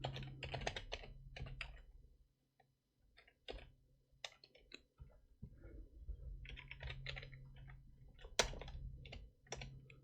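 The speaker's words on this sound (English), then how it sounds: "we're going to type in emergency funds" Typing on a computer keyboard, a close run of quick irregular key clicks in short bursts with brief pauses between them, no talking over it.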